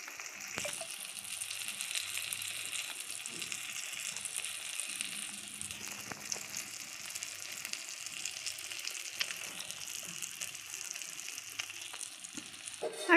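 Marinated crab sizzling and frying in a hot wok for a spicy crab curry, a steady crackling hiss with occasional stirring scrapes and no talk.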